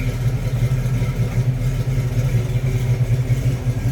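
A 1972 Dodge Challenger Rallye with a 340 V8 idles with a deep, steady low rumble and slight rhythmic lope, heard close up and continuous with no talking.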